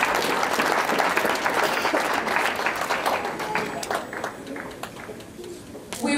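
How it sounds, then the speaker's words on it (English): An audience at a wedding ceremony gives itself a big round of applause: sustained crowd clapping, loud at first and gradually thinning, with faint voices and cheers mixed in and a brief swell at the end. "Let us give ourselves a big clap."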